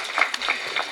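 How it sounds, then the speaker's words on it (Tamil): Audience at a birthday celebration event applauding, producing a brief, steady wash of clapping heard at moderate distance. "நல்ல கரகோஷம் கொடுங்க."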